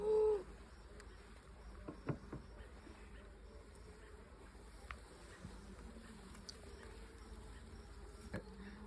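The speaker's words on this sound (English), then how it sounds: "There's so many bees" Italian honeybees at an open hive during an inspection, a steady low drone of buzzing wings close by, with occasional louder bees passing near and faint handling knocks.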